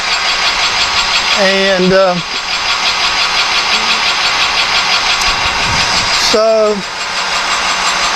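A metal lathe turns a Morse taper tailstock adapter for a die holder down to half an inch, giving a steady machine drone with brief tonal squeals near the start and end, while a voice speaks briefly.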